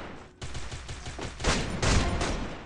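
Rapid gunfire from the video game Free Fire, a dense close burst of shots that swells and fades, heard alone.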